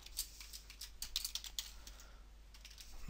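Fingers tap quickly at a computer keyboard while someone enters code, with light, uneven clicks in bursts that pause briefly and then resume, quiet and close with no talking.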